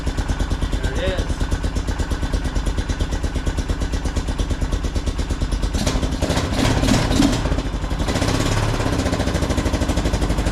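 A Honda Foreman ATV being diagnosed for a dirty carburetor idles close by with a steady, rapid chugging engine pulse, briefly revving rougher near the end, while someone speaks over it.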